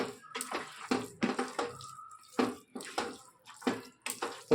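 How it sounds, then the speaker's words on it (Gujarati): Water pours into a pot of khichdi in short, uneven splashing bursts with brief pauses between them, close by and moderately loud. "હજી થોડું પાણી નાખવું પડશે."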